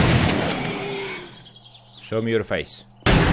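A handmade two-barrel shotgun fires in the video game 7 Days To Die, with loud broadband blasts at the start and again near the end, and someone talking in between.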